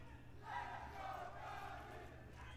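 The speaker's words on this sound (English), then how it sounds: "But as we can hear from the crowd," A large arena crowd at a Counter-Strike 2 esports match cheers and roars, a rather faint, sustained swell of many voices that rises after a brief moment and holds for about two seconds.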